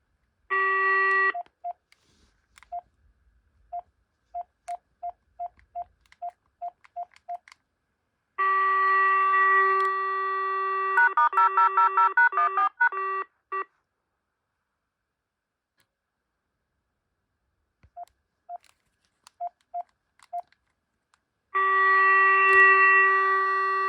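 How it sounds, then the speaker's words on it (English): A BT2200 cordless telephone plays through a series of ringtones: steady electronic warbling tone bursts alternating with runs of short evenly spaced beeps, loud and close with silent gaps between. "I think I'm quite happy with my ringtone selection,"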